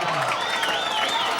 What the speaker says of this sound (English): the Wolf fans are picking up the pace a bit, cheering their team on